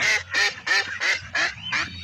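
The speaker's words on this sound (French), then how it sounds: "J'entends les canards" Six loud duck quacks from a hunting simulator video game, in a steady rhythm, close by, each a harsh nasal burst with brief gaps between.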